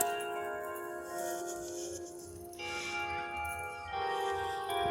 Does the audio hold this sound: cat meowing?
no